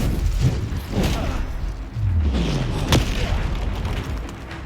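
An Incendio fire spell blasts in the Hogwarts Legacy video game, with booming bursts and whooshes over a dense, loud game soundscape that includes a sharp crack near the middle.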